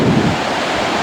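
Sea waves roll and wash along the Antrim coast, a continuous roar of surf mixed with wind buffeting the microphone, steady and fairly loud with no voices.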